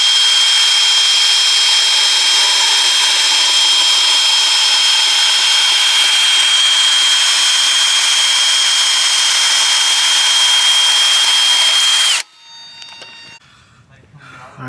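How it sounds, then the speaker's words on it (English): A bandsaw cuts through a front end link for a 2022 Subaru BRZ with a loud, steady, high-pitched whine and grinding rasp for about twelve seconds, then stops abruptly and leaves faint handling noises. "Cut it with the bandsaw right there."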